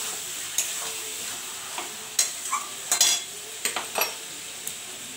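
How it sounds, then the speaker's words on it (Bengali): Mutton pieces being stir-fried for kosha, with scattered spatula scrapes and clinks against the pan over a quiet sizzle, irregular and close, no talking. "ভালো করে কষাচ্ছি"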